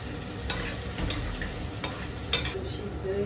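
Turmeric and home-grown garden greens fry in a pan, giving a continuous close sizzle with occasional clicks and stirring scrapes and no speech.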